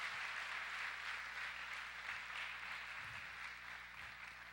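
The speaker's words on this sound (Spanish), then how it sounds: "¿Por qué no le damos un fuerte aplauso al Señor en esta" Faint, steady applause from a church congregation during a morning service, a continuous soft patter of many hands heard from a distance, with low room hum beneath.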